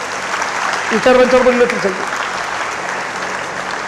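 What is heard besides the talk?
audience applause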